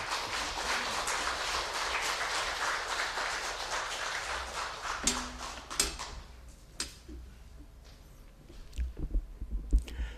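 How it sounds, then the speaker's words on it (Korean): A church congregation applauding to welcome a speaker to the pulpit: a soft, dense patter of many hands for about five seconds, then fading to a few scattered knocks in a quiet hall. "오늘 나오실 때 우리 박수로 환영해 주시기 바랍니다"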